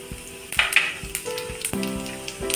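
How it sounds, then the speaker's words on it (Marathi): Cumin seeds hit a little hot oil in a pan, popping and sizzling in quick crackles with a bright spatter over a low hum, briefly and fairly close. "पॅन ठेवलेला आहे, त्याच्यामध्ये तेल थोडंसं टाकलेलं आहे, त्याच्यामध्ये जिरं टाकून घेऊया"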